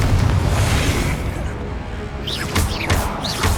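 Blasting-curse explosions in Hogwarts Legacy, loud booming bursts over continuous game noise, with a voice calling out as the blasts land.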